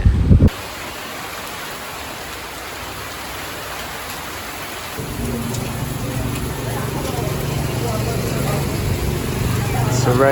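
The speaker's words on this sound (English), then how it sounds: "It's raining out there." Steady rain hisses down on a Thai island as a continuous wash of noise, growing slightly denser partway through, with no voices.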